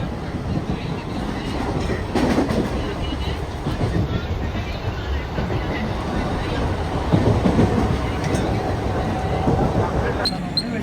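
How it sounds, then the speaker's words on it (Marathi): A Mumbai local train runs at night with a steady rumbling roar and rhythmic clatter of wheels on rails, heard from inside the carriage. "ही आहे मुंबईची लोकल"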